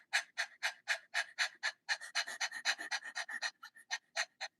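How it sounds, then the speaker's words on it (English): Rapid voiceless panting as a breathing exercise: a quick, even series of breathy, unvoiced puffs, close and clear, with brief pauses between bursts and no speech. "the voiceless panting."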